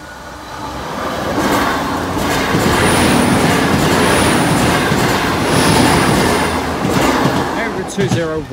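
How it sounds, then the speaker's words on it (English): A train passes over Boultham level crossing with a loud, sustained rumble of wheels and carriages close by, a high squeal partway through and a voice heard at the end. "The first train enters the crossing"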